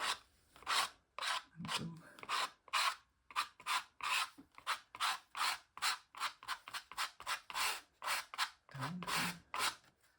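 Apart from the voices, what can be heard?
credit card scraping paint on mixed media piece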